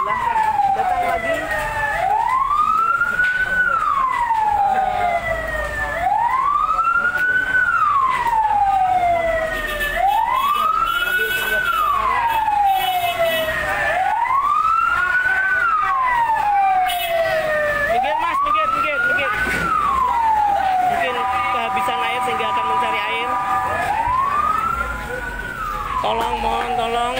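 Fire engine sirens wail continuously at a burning market, a loud rising-and-falling cycle repeating about every four seconds, with a second siren layering in near the end amid street noise.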